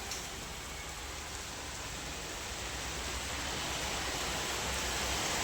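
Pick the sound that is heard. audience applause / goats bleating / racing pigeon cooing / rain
rain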